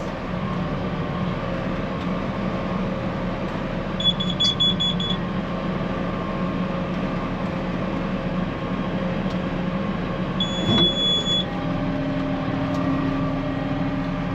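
Two short high-pitched electronic warning beeps from a round baler sound several seconds apart over the steady drone of the running machine.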